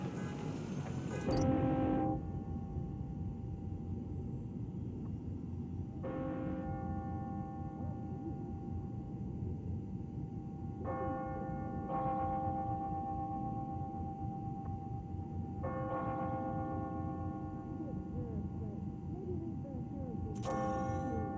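Church bells ring on the hour in the Spider-Man Miles Morales video game, several clear tonal strikes repeating every few seconds over a constant low city hum.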